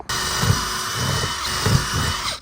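A power drill whirs steadily at close range, its high-pitched motor grinding with a few rhythmic surges as the bit bites through fiberglass.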